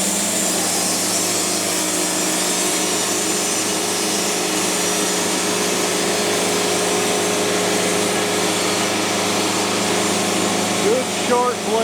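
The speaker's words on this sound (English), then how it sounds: "you can tear right through some poplar with a sharp blade" Saw blade tearing through poplar wood: a steady, loud, continuous buzzing cut runs throughout at close range, with a person talking over the noise.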